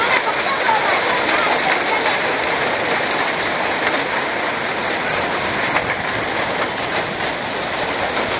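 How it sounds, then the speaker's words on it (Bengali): Heavy rain mixed with large hailstones pours down in a dense, steady drumming roar that stays loud throughout, with a person talking over it. "আজকে আবার শিলা বৃষ্টি, এই যে বালুর বড় বড় শিল করতেছে"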